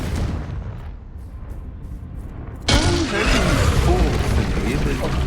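A Confringo spell blasting a chess piece in Hogwarts Legacy, a sudden loud explosive burst with rumbling crackle that cuts in after a quieter stretch and keeps roaring to the end.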